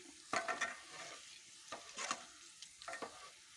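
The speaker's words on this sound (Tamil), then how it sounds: "எல்லாமே சிம்மில் வச்சு தான் வறுக்கணும்" Green gram dry-roasting in a pan on low heat for a fry, quiet and close, with three or four distinct bursts of stirring and scraping over a faint background hiss, no voices.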